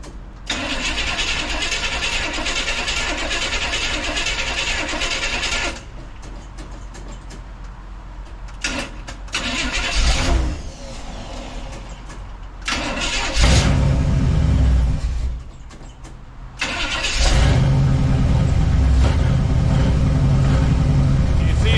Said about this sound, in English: I'm gonna try to fire this thing over, or spin it over, see what happens.